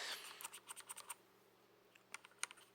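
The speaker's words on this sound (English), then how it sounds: "So then I clean just with the brush and the rubbing alcohol. I clean my keyboard like this." Brush bristles scrubbing across Redragon keyboard keys cleaned with rubbing alcohol, a quick run of close, soft scratchy clicks, then a pause and a few sparser strokes.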